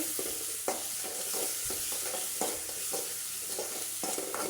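Green chilies and onions sauté with salt in a pan, a steady close sizzle broken by repeated scraping stirs of a spatula at an irregular rhythm, with no voices.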